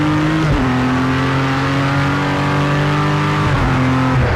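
A race car on full throttle during a shakedown ahead of the 24 Hours of Daytona 2019. The engine screams loud and steady, with a sharp upshift at the start and another near the end.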